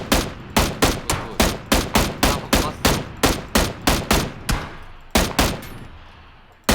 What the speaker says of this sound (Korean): 총소리 난다요